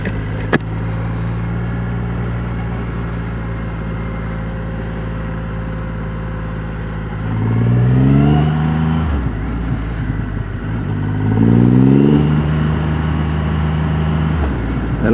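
A car with a large-displacement engine of nearly 2.5 litres accelerates twice after a steady drone, loud rising revs sweeping upward then dropping as gears change, close and alone.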